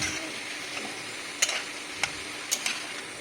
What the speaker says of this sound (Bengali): তো একটু আমি কষিয়ে নিচ্ছি